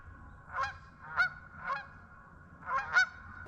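Geese honking at New Germany Lake in Maryland, a cluster of five nasal honks from a few birds at moderate distance, irregularly spaced, over a low background murmur.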